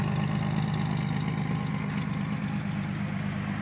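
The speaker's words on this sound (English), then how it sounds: "you get a little bit of an idea of the sound of the exhaust from back here" A 1974 Datsun 260Z idling, heard from behind the car near the exhaust, a steady low burbling drone with an even pulsing rhythm, moderately loud and unbroken, no talking.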